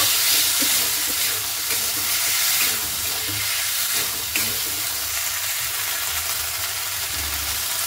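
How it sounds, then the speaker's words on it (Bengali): Spices and green peas frying in a pan for an Indian-style potato and pea curry, a steady close sizzle with occasional stirring scrapes, continuous and fairly loud with no talking. "এবার ভালো করে মশলাটা কষিয়ে নেব"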